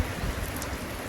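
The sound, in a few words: rain falling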